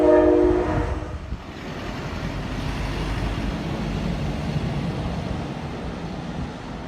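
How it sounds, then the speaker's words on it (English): A bright orange Brightline passenger train in South Florida passes with a short horn blast at the start, then a steady loud rumble of the cars rolling by for several seconds with no talk. "There goes bright line."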